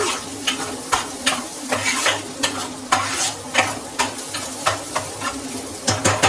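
Eggs stirred and fried bhurji style in a pan, a steady sizzle under repeated rhythmic scrapes of a spatula against the metal, close and fairly loud.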